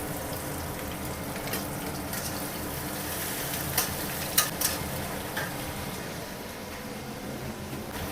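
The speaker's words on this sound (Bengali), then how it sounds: "এগুলো গোল্ডেন ফ্রাই হওয়া পর্যন্ত একে পেঁয়াজ ভাজবো।" Onions frying in oil in a pan for Kolkata-style biryani, a steady close sizzle with a few faint clicks from the pan.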